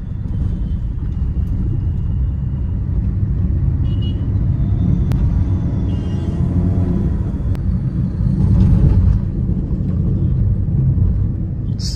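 Dense road traffic on a town street during the Diwali season produces a continuous low rumble of cars and engines. The sound is steady and moderately loud, with occasional faint higher clicks and no talking.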